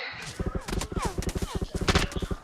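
Rapid bursts of gunfire in the PUBG Mobile video game, rhythmic automatic shots in quick clusters, close and punchy, with a voice talking over them.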